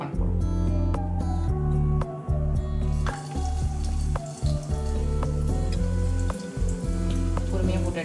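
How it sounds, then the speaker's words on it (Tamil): Chicken mayo bread balls are lowered into hot oil in a kadai and deep-fry with a dense, bubbling sizzle and sharp droplet crackles, loud and close throughout. "இப்போ நம்ம செஞ்சு வச்சுருக்கிற பால்ஸ்லாம் இதில் டீப் ஃப்ரை பண்ண போகிறோம்"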